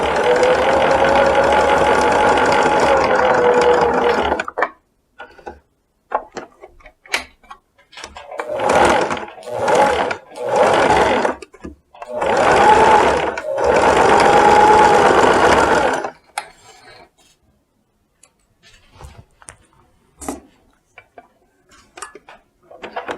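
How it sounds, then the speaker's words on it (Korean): A sewing machine stitches topstitching along three sides of a jacket pocket, running in a long steady burst, then several short bursts with pauses between them, loud and close with no talk. "주머니 스티치 칠 때는 여기서부터 3면 박음선 따라서 3면만 이렇게 박음질을 해줍니다."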